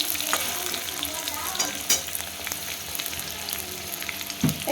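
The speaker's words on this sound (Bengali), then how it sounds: "এই আলুগুলো একটু ভালো করে ভেজে নেব" Potato pieces fry in hot mustard oil, crackling in a continuous close sizzle broken by occasional scraping stirs and a sharp knock near the end.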